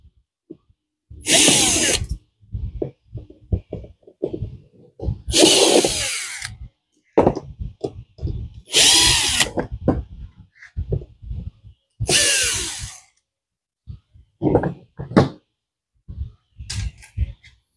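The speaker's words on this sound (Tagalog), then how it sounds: "gagamitin po natin ng drill" Drill removing screws from a deep fryer during a thermostat repair, four loud whirring bursts spaced a few seconds apart, with clattering handling noises and short buzzes in between.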